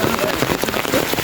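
Heavy rain pouring on a yard beside a pond, a close, dense patter spread evenly through a brief moment, no speech.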